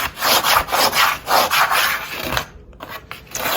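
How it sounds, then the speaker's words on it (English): Chalk rubbed back and forth on a chalkboard for Christmas craft lettering, a run of rhythmic scraping strokes, loud and close, about seven even passes then a few lighter, irregular rubs. "take your chalk and do it horizontally and vertical."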